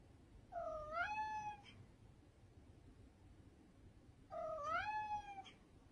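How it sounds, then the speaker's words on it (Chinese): A cat gives two short, drawn-out vocalizations, close and clear, each rising then bending into a nasal "huh"-like tone, separated by a few seconds of quiet low background noise. "哈猫就是一只发出哈声音的猫"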